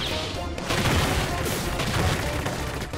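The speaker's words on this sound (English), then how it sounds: "I put too many bombs on him." Dense, rumbling barrage of bomb blasts and booms from the side-scrolling game Iconoclasts, continuous and loud for several seconds with sharp bursts layered over a low roar.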